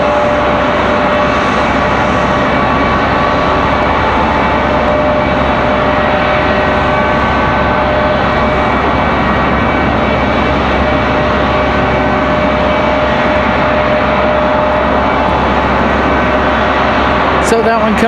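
A CRJ regional jet at Raleigh-Durham International Airport gives a loud, steady broadband roar that holds unbroken for the whole stretch, close and dominant.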